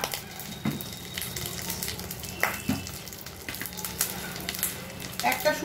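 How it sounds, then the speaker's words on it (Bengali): White cumin seeds frying in hot oil give a steady, close sizzle and crackle with soft spattering pops throughout. "তেলটা আমার গরম হয়ে গেছে, এরপর আমি এর মধ্যে সামান্য পরিমাণ সাদা জিরে"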